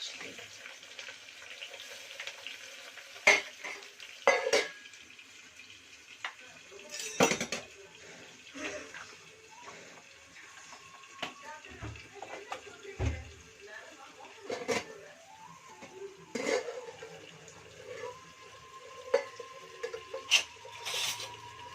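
Ginger garlic paste is added and stirred in a pot while cooking khichdi, with scattered metallic clinks of a spoon against the pot and soft sizzling and kitchen clatter spread over a long stretch, plus faint background voice.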